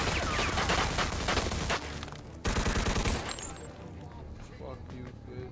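Bursts of Thompson submachine gun fire rattle in rapid succession in the Mafia 2 video game, loud and dense, with game effects and a voice talking under the gunfire.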